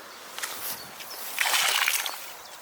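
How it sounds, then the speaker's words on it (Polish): Water poured off soaked fishing pellets, a wet sloshing and splashing that swells in the second half, close and moderately loud, with no talking over it. "Wyciągamy pelet, wodę zlewamy"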